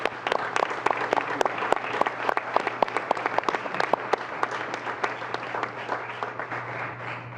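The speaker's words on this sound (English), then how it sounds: "I want us to keep clapping" An audience at a community event applauds, quick sharp claps in a lively burst that gradually thins and softens over several seconds, with a steady low hum underneath.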